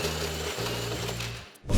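A drill steadily bores through the back edge of a wooden door for the handle crossbar, a continuous motor whine with a brief dip and stop near the end.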